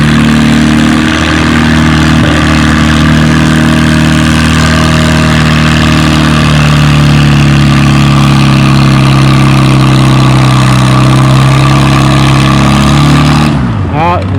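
Farmall 350 tractor pulling a 5,000-pound load at about 3 miles an hour at a spring tractor pull on wet clay, its engine droning steadily and loudly throughout with a low, even tone, then cutting off near the end.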